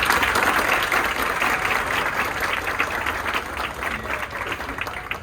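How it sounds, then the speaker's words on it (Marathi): Crowd applause at an outdoor Dahi Handi festival gathering: a thick, continuous wash of clapping that stays loud and steady for several seconds with no break. "त्याबद्दल एकदा त्यांच्यासाठी जोरदार टाळ्या वाजवा."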